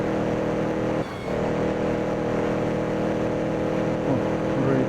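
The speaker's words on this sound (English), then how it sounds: "Cars coming behind." Vintage 1930s race cars in a simulated racing game, engines droning steadily with one brief dip as cars approach from behind, loud and continuous with no talk.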